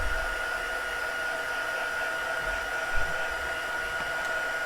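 A hair dryer blows steadily on a craft project, a constant close whirring drone that holds for several seconds with no voices over it.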